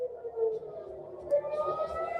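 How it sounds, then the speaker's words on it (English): An air raid siren wails over an Israeli city at night, a steady rising and sustained tone heard from a distance, alone without voices. "Sirens scream across cities."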